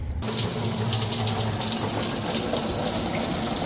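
Shower water runs steadily inside a tiny camper in sub-zero cold at high altitude, a close, loud, constant hiss and splash that starts abruptly and continues without pause.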